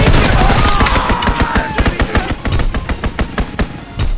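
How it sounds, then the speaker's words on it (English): An enemy strafing run in a Call of Duty WW2 multiplayer match brings a loud burst of aircraft machine-gun fire, rapid and rhythmic, fading into separate, evenly spaced heavy shots toward the end. "Enemy strafing run inbound!"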